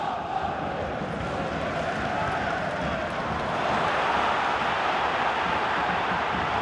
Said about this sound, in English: Crowd kind of restless as they want to see Celtic push forward.